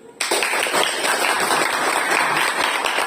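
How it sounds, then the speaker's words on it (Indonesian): Students in a classroom applaud after a group discussion during a problem-based learning lesson, a sudden, steady wash of many hands clapping, close and loud, sustained without talk. "Kita tepuk tangan, kita beri aplaus untuk diskusi pada hari ini"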